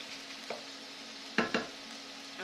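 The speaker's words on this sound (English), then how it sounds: "So stir your onions and mushrooms." Onions and mushrooms sizzle and cook down in a pan while being stirred, with a quiet steady fry and a few sharp scraping stir strokes close by.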